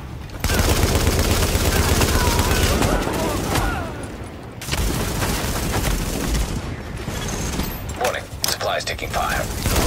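Sustained automatic gunfire from a firefight in The Division, loud and continuous over most of the stretch, with brief pauses and a voice speaking over the shooting.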